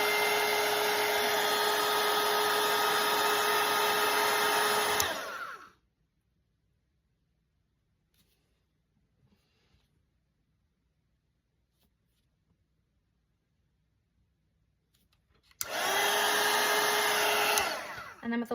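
A hair dryer blows steadily on wet red watercolour paint on a gingerbread house painting, loud and continuous for about five seconds, then cuts off to near silence before starting up again near the end.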